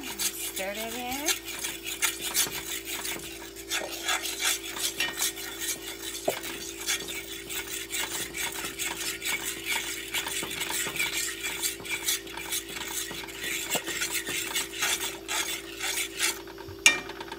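Flour is stirred into venison gravy in a cast iron pan, producing continuous rhythmic scraping and rasping strokes of a utensil against the iron, close and steady, with a faint simmer beneath and no voices.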